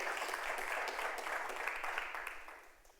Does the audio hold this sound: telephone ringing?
no